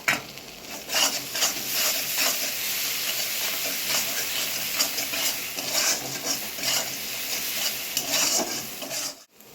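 Ginger-garlic paste sizzles and fries steadily in a pan for a Bengali-style palak egg curry, with a continuous hissing crackle and occasional stirring scrapes close by.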